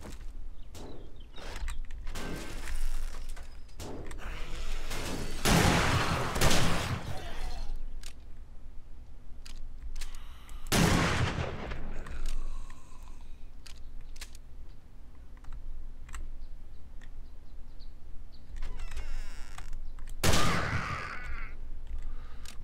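Hand cannon gunfire in the zombie survival game 7 Days to Die: several loud, sharp broadband shots spaced across the clip, with footsteps and clicking game sounds between them.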